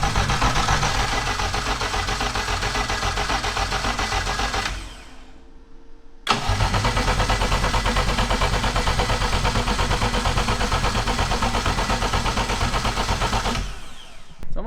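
A 1000HP K24-powered AWD Honda Civic engine cranks loud and harsh up close in a long sustained burst, drops away briefly, then roars back steadily before cutting off near the end, with no talk.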